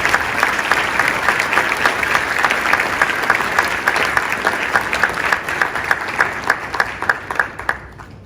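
Sustained audience applause at a 2019 Presidential Rank Awards ceremony, honoring VA and EPA winners: dense, steady clapping from a large room throughout, thinning slightly toward the end.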